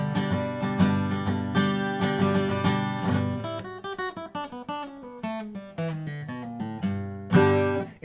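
A Gretsch G5027CE acoustic guitar rings out close up, strummed chords giving way to a run of picked single notes, then a final strum; full and resonant, no voices.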